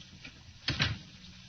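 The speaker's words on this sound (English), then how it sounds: "Close the door behind you." A door shuts in a radio drama sound effect, a quick double knock-like thud and latch that is close and fairly loud, with no voices.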